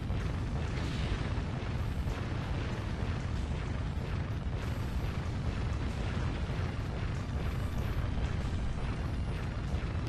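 Rapid naval gunfire in the video game Warship Gunner 2 forms a dense, continuous barrage of booms and bursts with steady loudness and no pauses throughout.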